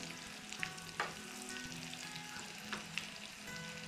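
Onions and chili fry slowly in a pan over medium-low heat, a soft, steady sizzle with a few faint clicks and pops scattered throughout, close and without talk.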